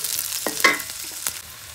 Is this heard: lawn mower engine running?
no